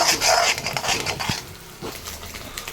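Beaten egg is stirred in a pan for fried rice: a spatula scrapes and taps against the metal in quick bursts over a light sizzle, louder at first, then quieter.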